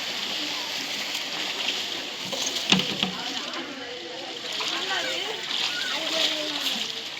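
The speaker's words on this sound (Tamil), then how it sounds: "இப்ப அவரு தண்ணி குடிச்சிடுறாரு. அவரால நீந்தி வர முடியல. இப்ப தத்தளிச்சிட்டு இருக்காரு." Irregular sloshing and splashing of a person thrashing in water during a disaster rescue drill, moderately close, with voices talking over the struggle throughout.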